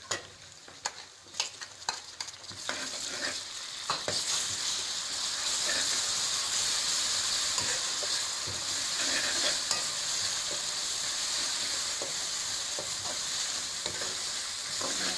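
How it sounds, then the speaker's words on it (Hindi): Ginger garlic paste sizzles and hisses in hot oil with fried onions for a fish curry, with spoon scrapes and stirring clatter at first, then steady loud frying. "अब हम इसमें डालेंगे अदरक लहसुन का पेस्ट।"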